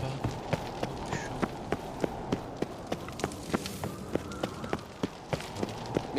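Roach the horse galloping in The Witcher 3, a fast even rhythm of sharp hoofbeats repeating about three times a second for the whole stretch, close and steady over a soft background.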